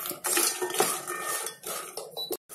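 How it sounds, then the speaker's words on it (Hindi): Moong dal badi roasting in oil in a pot, with a spoon clattering and scraping against the metal in busy, close strokes for a couple of seconds before a brief pause and a final clink. "अब इसमें डाल देंगे हम ये बढ़िया, और इनको हम चलाते हुए अच्छी तरह से भून लेंगे।"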